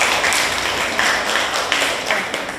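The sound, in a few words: applause for group 1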